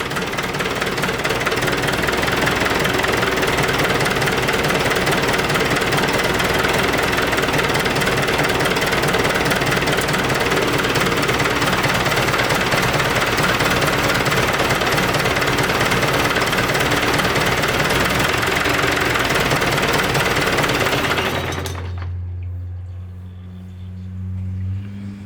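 A Ford 172 diesel engine runs loud and close with a rough, knocking idle during injection pump bleeding and tuning, then shuts down near the end, leaving a low fading rumble.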